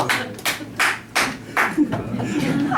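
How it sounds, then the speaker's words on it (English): Scattered bursts of audience applause at a live fairy-tale storytelling show, several short rounds of clapping rising and fading between stretches of speech. "Don't feel obliged to clap everything."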